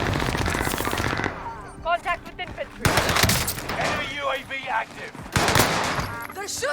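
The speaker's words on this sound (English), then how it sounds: "They're shooting at me!" Warzone video game gunfire rattles in dense automatic bursts with scattered single shots, punctuated by electronic in-game voice cues, while a player talks excitedly over the action.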